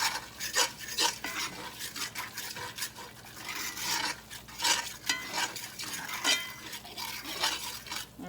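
Salt and onion powder are stirred into a seasoning mixture for crusted cube steak, giving rhythmic scraping and light clinking of a utensil against a bowl, close up and fairly quiet with no talk.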